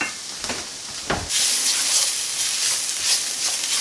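Flour stirred through hot fat in a pan for a Thanksgiving side dish, a few scraping strokes giving way to a steady, bright sizzle and hiss that fills the pan close up.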